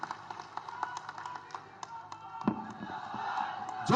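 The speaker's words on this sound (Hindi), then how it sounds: "जोरदार तालियों के साथ स्वागत होना चाहिए साथियों" Crowd clapping at an outdoor political rally on stage in a park, a scattered patter of claps under a murmuring crowd, with a louder burst near the end.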